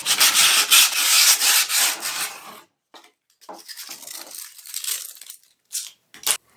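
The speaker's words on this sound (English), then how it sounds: "fold them over, and use this as sandpaper to kind of clean up your edges" Folded skateboard grip tape rubbed as sandpaper along the wooden deck edges, giving a loud continuous scraping for a few seconds, then shorter broken strokes and scuffs with brief pauses between them.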